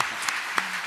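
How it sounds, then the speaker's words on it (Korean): Steady applause from an audience at a Buddhist monk's Q&A lecture, broad and continuous for about a second with a few sharper claps standing out. "네, 박수 받으세요"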